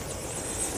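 A helicopter's rotor and engine drone steadily nearby, a loud continuous throbbing rumble with no speech over it.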